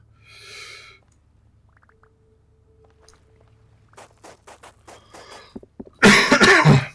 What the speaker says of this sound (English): Tickly cough just in time for the holiday.